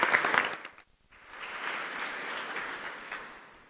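A conference audience at PyCon UK lightning talks gives a quick round of applause: a faint, distant burst, a brief pause, then a few seconds of steady, soft clapping.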